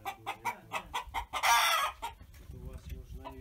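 Chickens in a Russian village cluck in quick repeated bursts, with a short loud squawk midway, close and clear, followed by softer low clucking.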